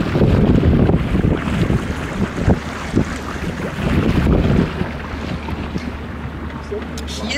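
A small boat motors across Lake Chiemsee in windy, rainy weather, with a steady engine drone under heavy wind buffeting and water noise, loudest at first and easing slightly later.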